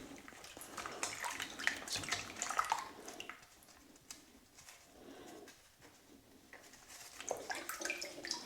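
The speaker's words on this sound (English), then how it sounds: "just give it a quick wash." Smoked black pepper bacon gets a quick rinse under running water, splashing and trickling fairly softly in uneven bursts, with a faint cooing bird somewhere in the background.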